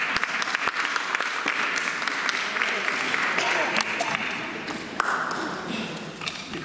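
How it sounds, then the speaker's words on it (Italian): Audience applause at an Italian book presentation event, dense steady clapping from a room of people, fairly loud and continuous with a few sharper claps, fading slightly toward the end. "Beh, un applauso."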